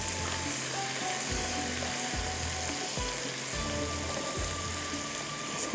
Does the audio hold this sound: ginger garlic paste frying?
yes